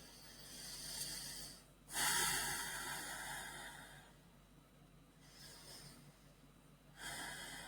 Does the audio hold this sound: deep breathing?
yes